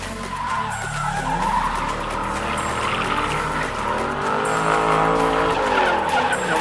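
A Toyota GT86 drifts with a long, loud tyre screech and a revving engine, continuous and near, with no talking.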